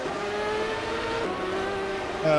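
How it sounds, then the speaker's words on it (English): Race car engines roar in rFactor 1, a loud sustained whine with pitch sliding through the revs, one shift dropping the tone midway and a louder burst at the very end. "I'm worried about the engine roaring."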